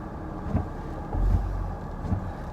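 Car interior while driving, a low steady rumble of road and engine noise with slight swells and thumps, fairly close and continuous, with no talking.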